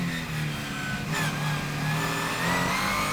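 Engine of a Ligier JS2R race car heard from on board during a race, a loud, steady mid-pitched roar rising in pitch as the car accelerates, with no talking.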